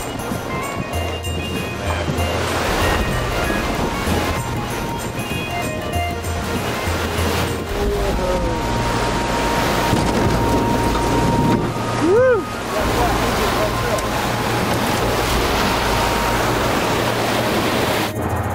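A fishing boat out on a river, its steady motor and water noise running continuously throughout, with voices talking over it and a brief tonal whine partway through.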